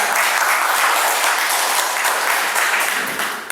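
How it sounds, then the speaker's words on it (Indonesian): An audience at a pro-poor and disability budgeting training workshop applauds the director: loud, dense, continuous clapping filling the room, fading slightly at the very end. "Sekali lagi tepuk tangan buat Bapak Direktur kita."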